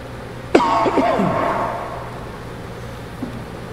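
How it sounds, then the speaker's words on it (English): A single close, sharp cough followed by a short wheezy, rasping throat sound that trails off, then quiet room noise. "He coughed."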